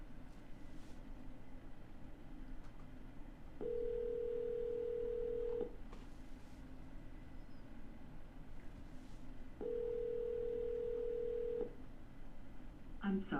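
Outgoing call to a phone that goes unanswered, two long steady ringback tones several seconds apart over a low, quiet line hum, faint and distant in the earpiece.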